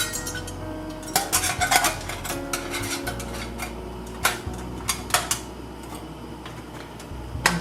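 Berry jam fruit pushed through a fine-holed metal strainer, giving repeated scraping, clinking metal taps and clatters in uneven bursts, close and moderately loud with no voices.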